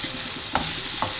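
Chicken liver with salt, pepper, rosemary and thyme frying in a pan with shallots and bacon, a steady soft sizzle under two brief scraping stirs, close and moderately loud.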